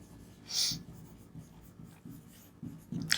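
Pen writing asset names during an accounting lecture, a soft scratching of strokes with brief pauses, close and fairly quiet, no voice over it.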